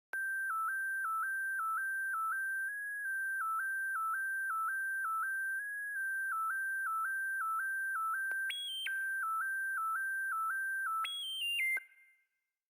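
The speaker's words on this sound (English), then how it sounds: "I just came up with this, it's a simple sine wave melody." A simple sine wave synth melody built in FL Studio plays alone, a clean steady looping line of short repeated notes stepping between a few pitches, with brief higher notes near the end before it cuts off.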